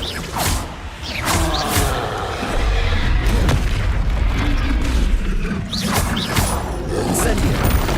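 Confringo and Expelliarmus spells cast in Hogwarts Legacy: loud booming blasts and whooshing magical bursts in a steady, busy barrage, with a voice calling out over them.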